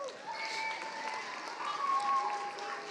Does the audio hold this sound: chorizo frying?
no